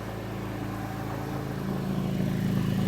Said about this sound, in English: the best thing about this car is the exhaust note